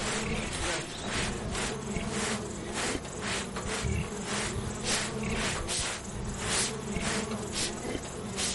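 Dense buzzing of many bees or wasps, a steady close swarm drone with pulsing surges throughout and no voices.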